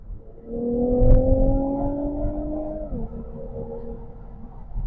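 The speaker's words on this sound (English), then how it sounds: "I'll downshift a couple times right here." A 2017 Infiniti Q60 Red Sport hums at moderate revs from inside the cabin, its engine tone rising gradually and then stepping down sharply once as a paddle-shift downshift lands, with no talking.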